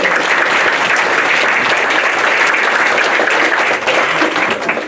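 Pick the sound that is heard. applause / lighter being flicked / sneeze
applause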